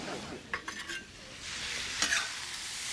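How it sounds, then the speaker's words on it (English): Bok choy, sausage and peanuts stir-frying in a hot pan, a broad hiss of sizzling with a few quick scraping and tossing bursts from the utensil near the start and middle. "And we're just going to quickly stir fry this."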